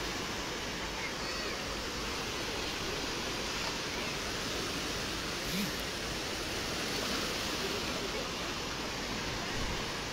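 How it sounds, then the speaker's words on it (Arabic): Rough, churning sea surf breaks against the rocky Casablanca shore on a foggy morning, a steady, loud broadband roar that continues unbroken throughout with no distinct pauses. "حتى البحر حتى هو هايج هاد الصباح كيف ما كتشاهدوا"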